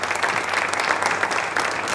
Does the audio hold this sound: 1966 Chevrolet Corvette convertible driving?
no